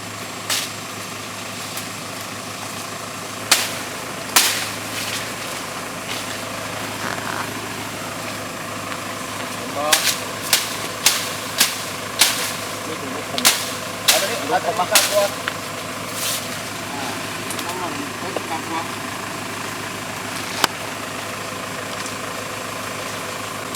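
An engine idles steadily, with short revs and knocks, as someone tests whether a stuck vehicle can move after wood is cut away near it in rural Laos. Sharp clacks and thumps come in bursts over the engine hum, with voices at times.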